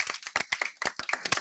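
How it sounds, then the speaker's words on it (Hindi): A church congregation claps together in quick, uneven bursts, close and lively, with no voices over it. "सभी एक बार तालियां बजाएंगे"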